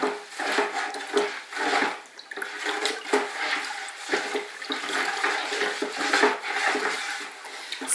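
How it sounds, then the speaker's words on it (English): Weekly feed fertilizer being stirred into water in a bucket, a soft, irregular sloshing and swirling with faint scraping, moderately quiet and close, with no voices. "Put that in your water and stir."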